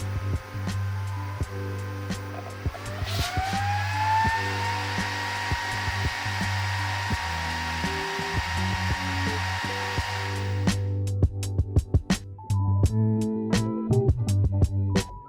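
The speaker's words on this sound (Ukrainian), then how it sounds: "Вентилятор працює постійно, кожні 5 амперів збільшуючи оберти." The cooling fan of a LiFePO4 home battery pack runs at maximum speed, giving a loud, steady whirring hum that rises in pitch, then gives way to sharp clicks and knocks near the end.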